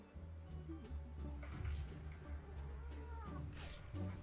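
A cat waking up and meowing indoors, a few short, faint mews close by against quiet room sound.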